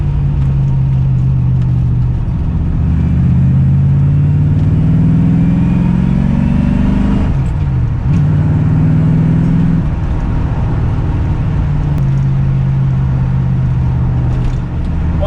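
A Rover V8 car engine drones loudly from inside the vehicle on country lanes, its pitch rising as it accelerates, dropping at a gear change, then climbing again.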